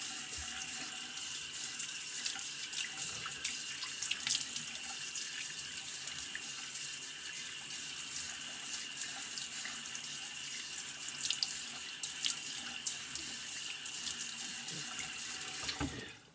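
A bathroom sink tap runs steadily while a razor, a vintage Shake Sharp MK 1.5, is rinsed under it. The broad close water hiss holds level throughout, with a few brief splashes and clinks near the end.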